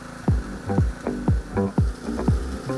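A meat grinder mincing mackerel flesh mixed with spring onion for otak-otak gives a rhythmic series of clanking, ratcheting mechanical pulses, about one every half second, close and fairly loud with no voices.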